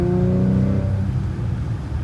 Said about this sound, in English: Nice little slow acceleration.